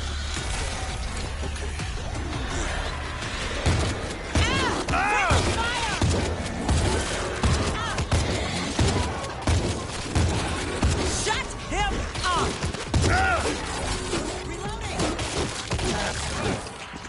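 Dense gunfire in the World War Z zombie co-op game rattles in rapid, chaotic bursts with crashes and shattering mixed in, loud and continuous, while voices shout over the fighting.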